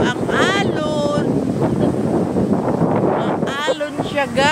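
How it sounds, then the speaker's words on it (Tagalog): Strong wind buffets the microphone with a steady roar by the sea, and waves wash faintly beneath it while a person talks over the noise. "Sa tabi kami ng dagat. Batik-batik. Mahangin."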